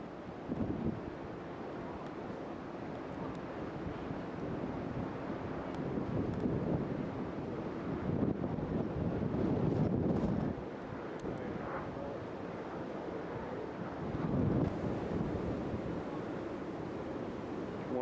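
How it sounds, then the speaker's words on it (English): Strong wind on a boat deck buffets the microphone in rough gusts, rising and falling, with a low rumble underneath and no voices. "Boy, is it windy."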